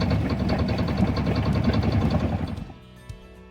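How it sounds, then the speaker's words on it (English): A one-cylinder Yanmar diesel inboard boat engine runs with a steady rapid knocking chug, loud and close, then cuts out and falls quiet near the end. "So I have a 1-cylinder Yanmar diesel engine, inboard motor on here."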